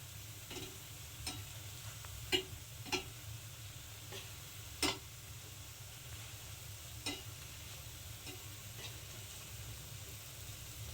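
Pieces of salted, turmeric-coated lote (Bombay duck) fish are set one by one into a spiced pan. A steady low sizzle of frying runs throughout, with sharp clicks and taps from placing the pieces at irregular moments.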